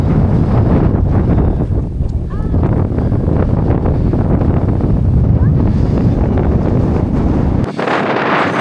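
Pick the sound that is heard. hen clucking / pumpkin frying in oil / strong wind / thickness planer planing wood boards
strong wind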